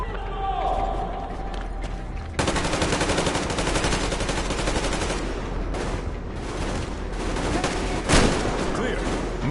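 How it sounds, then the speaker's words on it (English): Sustained machine-gun covering fire in the Metro Exodus video game, a loud, dense rattle of rapid shots running almost continuously after a brief quieter opening, with voices mixed under the barrage. "Covering fire for the Colonel."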